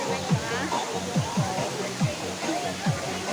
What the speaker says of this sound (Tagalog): Nandito kami sa falls kayo.